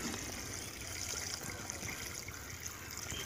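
Irrigation water from an engine-driven pump pours and trickles into a farm field, a steady, fairly faint gurgling flow with no speech over it.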